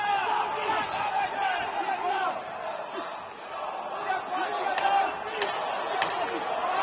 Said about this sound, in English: Crowd coming alive here.